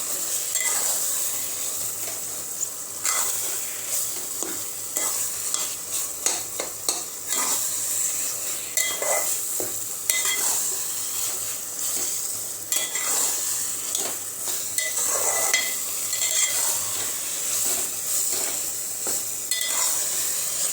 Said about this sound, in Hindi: मटन कीमा, अच्छे से हमें इसे मिक्स कर लेना है।